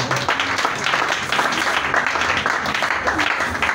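A church congregation applauds loudly and steadily after a call to praise, sustained clapping from many hands filling the room, with some voices mixed in.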